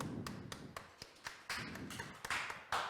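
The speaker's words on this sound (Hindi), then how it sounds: "चलो ताली बजाओ सब।" Several sharp hand claps fall in a steady, rhythmic beat, fairly close and moderately loud, as a classroom group claps along, with no talking over them.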